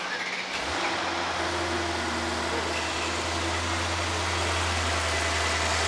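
A Mercedes GT63s AMG starts at the beginning and then idles steadily. The low engine hum is loud, close and continuous, with a broadband rumble and no talk.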